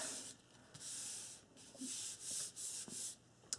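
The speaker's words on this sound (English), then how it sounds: "So we burnish this down." Rubbing strokes burnish a sticker sheet down onto a wall calendar page. A steady, fairly faint scraping plays in several back-and-forth passes with short pauses between them, and there is no talk.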